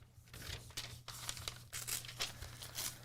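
Paper is crumpled and crinkled close by in a series of uneven rustling bursts, with brief tearing-like scrapes, fairly quiet and with no talking over it.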